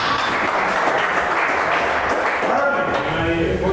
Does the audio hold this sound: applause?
yes